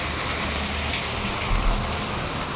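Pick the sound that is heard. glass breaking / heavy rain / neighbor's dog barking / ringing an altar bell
heavy rain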